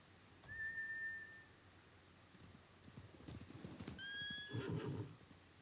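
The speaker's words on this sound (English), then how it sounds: "Bastards scared off the horses. They're samurai mounts, trained to return to their masters." Samurai horses in the Ghost of Tsushima video game: hooves clatter in irregular bursts while a whistling tone sounds twice, then a neigh rises near the end, all fairly faint and without talking.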